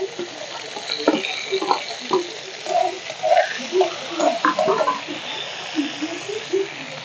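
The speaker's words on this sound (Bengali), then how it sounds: "দিয়ে দিব পেঁয়াজ কুচি, সাথে দিয়ে দিব টমেটো কুচি" Chopped onion and tomato fry in a hot pan with bay leaf and cumin, a loud, close crackling sizzle with irregular stirring scrapes and pops throughout, with no talking.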